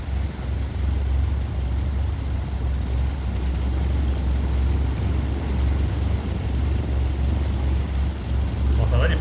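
An aircraft lands at a snowy mountain airfield, a steady low engine drone that stays constant throughout, heard from a holding point with no talking over it.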